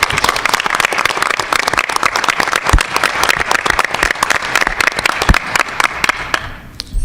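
Audience at a school board meeting breaking into applause, dense sustained clapping from a room full of people, loud and close, tapering slightly at the end.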